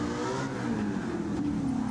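Car engine in the racing game Gran Turismo 7, a steady loud drone that swells slightly as it revs, filling the whole moment with no talk.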